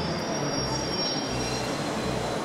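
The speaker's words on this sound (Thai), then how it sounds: "รถไฟคลาสสิกว่ะทุกคน ดูดิ รถไฟ" A vintage train at a Moroccan railway station gives a steady, loud rumble of rolling wheels with a thin high squeal running over it, continuous throughout with no talk.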